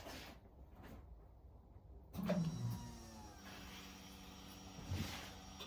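A car's fuel pump whirs in short electric bursts as the engine's first start is attempted, quiet and close, with faint mechanical clicks between the runs.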